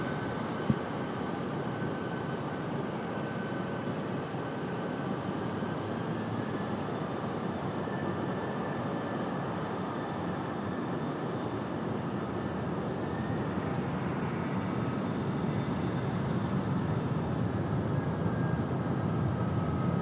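Airplanes at Raleigh Durham airport on the runway produce a steady, broad jet engine roar that holds throughout and swells slightly toward the end, heard from a distance with no talk over it.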